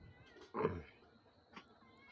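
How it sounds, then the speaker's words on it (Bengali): A kitten meows twice, a clear, close cry followed a second later by a fainter, shorter one, against quiet surroundings. "এই তো বিল্লি ছানা আসছে, ও খাবে পুচি"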